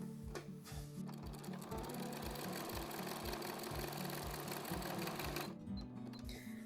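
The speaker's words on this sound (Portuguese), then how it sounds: "E agora eu vou seguir com a costura reta normal." A sewing machine runs a straight stitch along a denim bag pocket, a fast steady mechanical chatter of needle strokes that keeps going, then slows and stops near the end.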